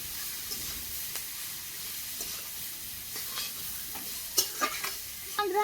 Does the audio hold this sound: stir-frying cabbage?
yes